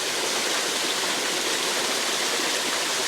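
A waterfall and stream in the Arkansas Ozark National Forest give a steady, dense rushing hiss of falling and flowing water, constant and fairly close, with no voices.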